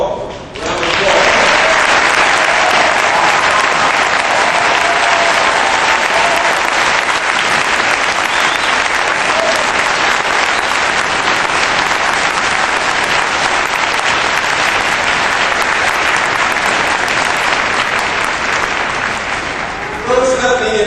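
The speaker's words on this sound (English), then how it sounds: "Let's give them all a round of applause." Sustained, dense applause from a large crowd honoring graduates at a university commencement ceremony, steady and loud for about twenty seconds before tapering at the end.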